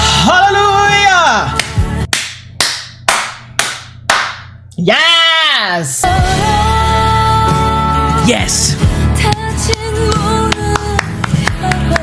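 Viewers clap in a few sharp, loud bursts while reacting to the finale of The Glory, with excited shouting and music around the claps.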